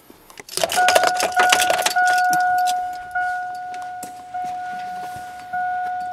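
A vehicle ignition key is turned on: keys jangle briefly, then a clear electronic warning chime sounds in steady, repeated pulses, with no talk.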